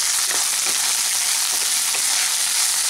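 Onion and diced capsicum fry in a pan for chilli paneer, giving a dense, continuous close sizzle with a few faint stirring scrapes.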